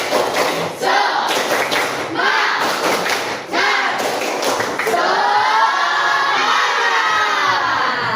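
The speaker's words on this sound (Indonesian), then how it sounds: "tepuk semangat." A classroom of schoolchildren performing a spirit clap chant: loud patterned clapping bursts with group shouting in rhythm, then a stretch of sustained voices chanting together up close.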